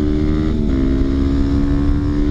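Yamaha WR450 dirt bike engine running steadily and loud, a continuous droning hum with a slight pitch drop partway through as it rides off, no talking.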